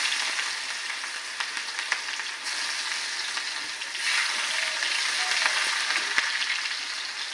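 Dried red chillies and a little onion fry in oil for a prawn and taro dish, making a close, steady sizzle with occasional soft stirring clicks and no talking.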